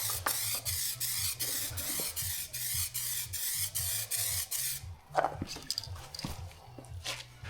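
Spray gun laying clear coat onto a repaired car bumper in rapid repeated hissing bursts with a pulsing compressor-like hum underneath, ending in a few softer clicks and rustles.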